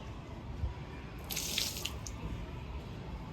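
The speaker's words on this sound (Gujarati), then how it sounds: "એટલે એને ક્લીન કરી દઈએ ફટાફટ" Water splashes onto patterned floor tiles during a quick wash, a brief bright gush lasting under a second over a steady faint background, with no talking.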